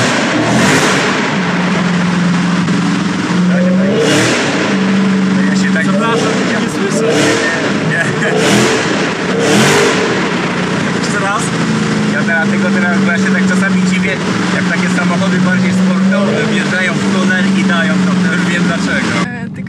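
A loud 808 HP Dodge Challenger Hellcat Redeye engine idles and revs repeatedly nearby, rising and falling in roaring bursts while people talk over it.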